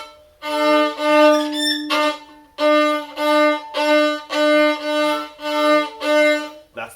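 Bowed string instrument played roughly by a beginner, with a series of about seven scratchy, uneven strokes, each a loud sustained tone with brief gaps between, no talking.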